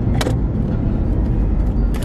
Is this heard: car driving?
yes